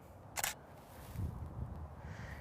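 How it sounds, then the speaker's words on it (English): A single crisp shutter click of a single-lens reflex camera firing a test shot, brief and close against a quiet room background. "So now I'm gonna take another test shot."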